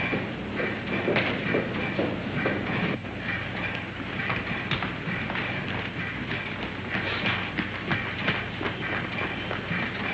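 A passenger train bound for Nice runs along the rails with a continuous rumble and repeated clickety-clack thumps, loud and close throughout with no talk.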